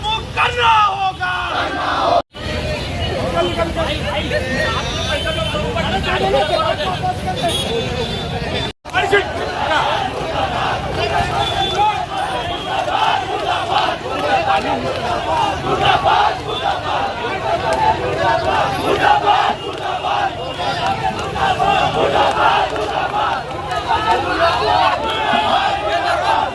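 Youth wing protesters chanting slogans at a political demonstration where a chief minister's effigy is burned amid scuffles with police, a loud continuous crowd roaring and shouting nearby, with voices calling out over the din.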